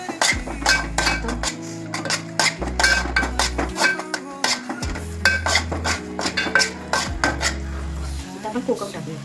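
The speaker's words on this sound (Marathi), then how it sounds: "चांगलं मिक्स करू." A spoon stirs and scrapes prawn chutney with turmeric, onion-garlic masala and chili powder in a metal pan, giving repeated close clinks and scrapes over a low hum that switches on and off.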